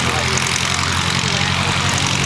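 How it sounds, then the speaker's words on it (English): A Curtiss Jenny biplane's 150 horsepower Hispano-Suiza V8 water-cooled war surplus engine running up at an air show, a loud, dense, continuous propeller roar that stays close and steady throughout. "Right now, running up the 150 horsepower Hispano-Suiza V8 water-cooled war surplus engine."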